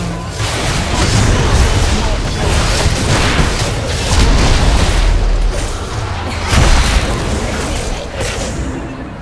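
A turret blows up in League of Legends with dense, loud rumbling booms and crashing bursts that repeat in waves, the noisy explosion layering over itself for several seconds.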